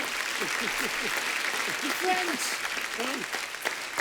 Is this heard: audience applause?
yes